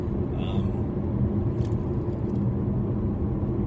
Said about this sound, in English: this car is a little bit noisier inside than some of the competition